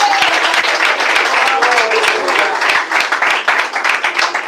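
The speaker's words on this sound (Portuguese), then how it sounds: "E bate palmas." Church congregation clapping hands during a sermon, a dense, sustained patter of many palms with faint voices mixed underneath throughout.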